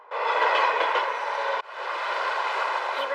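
A train rolling along its rails, a steady mid-pitched rumble and clatter heard from inside, with a brief dip partway through before the running noise resumes.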